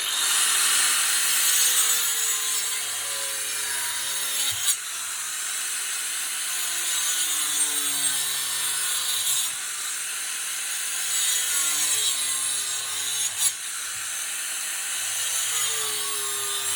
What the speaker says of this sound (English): you've seen how the Dewalt angle grinder copes with wood here